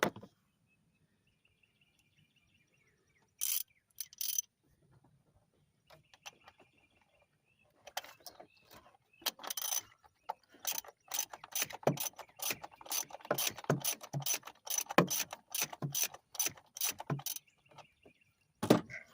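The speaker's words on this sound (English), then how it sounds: "Using a 7mm socket, 3/8 extension" Ratchet turning a 7mm socket on a 3/8 extension at an injector bolt on a Ford F-150 Triton engine; close, rapid clicking bursts that start sparse, then run dense and steady through the second half.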